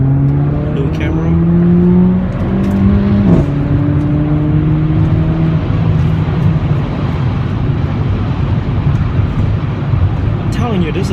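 A Mercedes-Benz CLA45 AMG engine drones steadily while driving, a loud continuous hum with a brief shift in pitch partway through, heard from inside the car.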